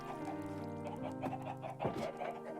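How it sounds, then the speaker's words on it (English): Chickens clucking in the Minecraft video game, a few soft, low clucks and squawks repeating over a quiet constant background, faint and brief. "Oh, you chickens."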